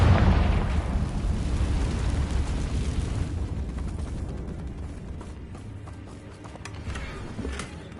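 A Confringo blasting spell in Hogwarts Legacy detonates with a loud, deep boom that rolls into a long, rumbling decay with faint crackling debris.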